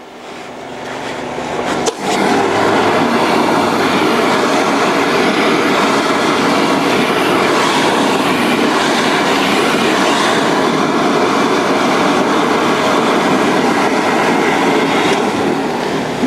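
Twin engines on a hot and cold water trailer sewer jetter start up with a sharp jolt, then run in a loud, continuous, steady roar with a rhythmic chattering texture, close by and with no talking.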